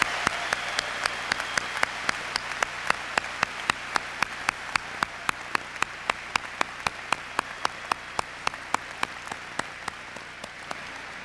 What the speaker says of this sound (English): Please join me in a round of applause for all of these outstanding scholars.